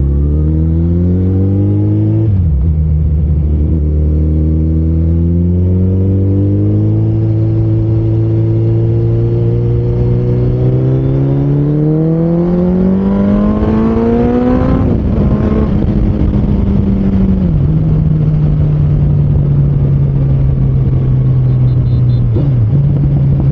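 A Suzuki Hayabusa motorcycle pulls hard on an open road, its engine climbing through the gears with loud, close revving, each rising pitch broken by a brief dip at the shift before it settles into a steady high drone.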